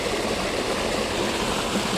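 Running water flowing steadily outdoors, a dense, constant rushing wash that stays loud and even throughout with no voices over it.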